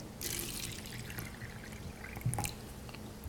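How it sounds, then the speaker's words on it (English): Tap or Kangen water pours into a cup holding a tea bag, a soft, close splashing trickle that runs steadily for a few seconds with a brief brighter splash near the end. "So we're going to put the tea bag in and fill it up with water."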